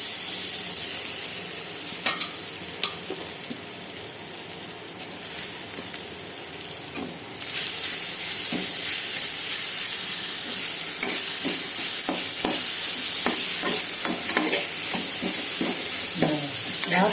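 Grated raw mango sautéing in a pan over a low flame, a continuous close sizzle that grows louder midway, punctuated by stirring scrapes and taps.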